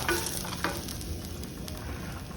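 Garlic frying and being stirred into sambar masala in a pan, with a steady low sizzle and a couple of soft stirring knocks, no talking.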